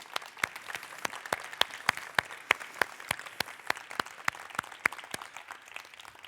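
Audience at the ALDE Congress political gathering giving a sparse, rhythmic round of applause, individual claps sharply spaced and fairly near, steady for several seconds without speech.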